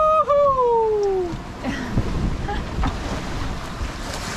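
Sailboat surfing down big waves in the English Channel, with roaring wind buffeting the microphone and rushing water along the hull; a high whistling tone fades in the first second, then steady wind and sea wash continue.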